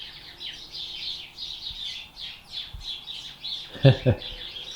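Birds chirp and twitter repeatedly outdoors in rural Texas in a busy, fairly close chorus, joined near the end by a brief louder call or voice.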